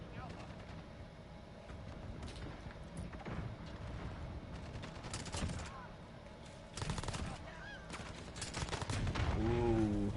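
Rapid gunfire and heavy blasts in a Modern Warfare multiplayer match, including a rocket launcher, form a dense, continuous clatter with louder bursts toward the end.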